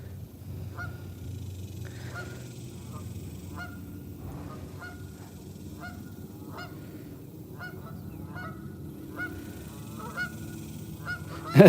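Geese honk repeatedly at a fishing spot, a steady series of short, distinct calls at moderate distance over a low ambient rumble.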